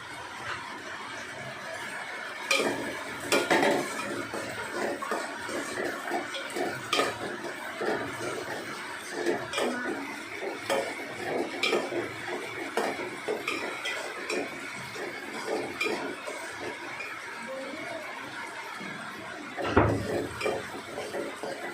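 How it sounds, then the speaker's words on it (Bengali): Lentils (dal) frying in a pan for khichuri, with a steady close sizzle broken by repeated scraping strokes as they are stirred, and no talk. "ডালটা একটু ভেজে নিলাম"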